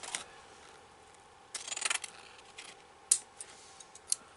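Scissors cutting ribbon for a holiday table centerpiece, a brief rustling snip sequence followed by a few sharp, faint clicks and taps, close and quiet.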